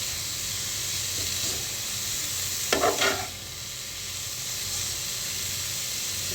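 Carrots sizzling in hot ghee make a continuous frying hiss, broken by one short burst of spatula scraping and stirring partway through, close up and with no talking.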